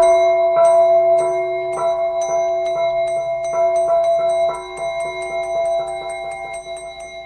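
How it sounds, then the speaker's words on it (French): A small gong struck repeatedly during a radio show rings out in a quick, even series of bright metallic strikes, each tone overlapping the last, with no talking over it. "faire sonner notre petit gong"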